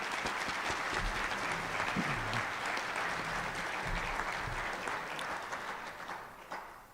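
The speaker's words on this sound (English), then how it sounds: "If we could please give them a round of applause." An audience at a high school graduation ceremony in Fargo gives a sustained round of applause, dense clapping that holds steady and then tapers off toward the end.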